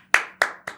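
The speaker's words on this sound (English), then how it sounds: "Crowd goes wild." A live podcast audience claps in three sharp, separate bursts, each quickly fading, close and loud with no talk.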